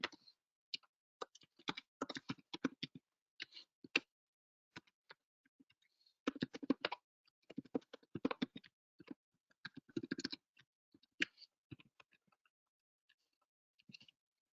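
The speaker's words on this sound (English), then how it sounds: "I am just making mistakes typing." Quiet bursts of clicky typing on a computer keyboard, in irregular runs with short pauses between them, alone with no talk.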